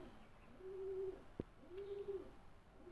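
A Teddy breed pigeon coos in low, steady hums that come in two or three drawn-out phrases, heard close and fairly soft, with a brief click between calls.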